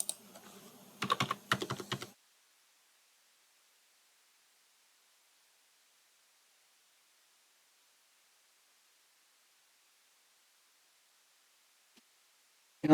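Someone types on a computer keyboard to fill in an online REET 2024 application form, with a short burst of close clicking keystrokes at the start, then a long silence.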